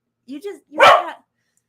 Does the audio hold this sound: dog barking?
yes